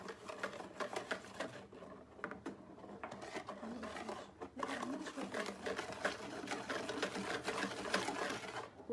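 An electric hand mixer whirs through chocolate cake batter thinned with milk, its buzzing motor rising and dipping in short bursts while someone talks over it.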